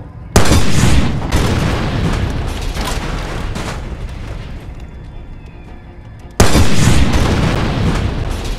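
Booming explosions in the Far Cry 2 video game, a loud blast at the start and another near the end, each followed by a long rumbling decay, with no talk.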